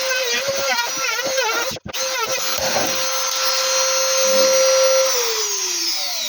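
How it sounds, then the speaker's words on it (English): A multi-tool with a cutting disc shrieks loudly while cutting near a motorcycle's rear, a high whining grind with a brief drop-out, then settling into a steady sustained tone. "Let's bring down the multi-tool."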